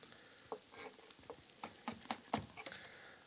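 Chopped chili pepper, seeds included, sizzles in a frying pan, with a soft hiss broken by sharp crackles and the scrape of stirring, close by and with no talking.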